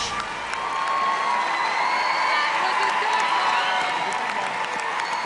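A talent show audience at America's Got Talent cheers, whoops and applauds in a sustained, dense roar of clapping and shouting that fills the whole stretch at a steady loud level.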